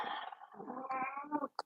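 A house cat meows in one drawn-out, wavering call lasting over a second, close and clear in a quiet room, with a short chirp at the end.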